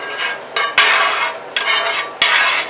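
A spoon stirring thick simmered sauce into a dish, with three sharp utensil knocks against the bowl followed by scraping, clattering bursts, close and loud with no talk.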